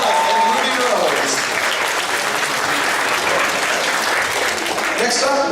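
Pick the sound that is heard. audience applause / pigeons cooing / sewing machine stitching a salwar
audience applause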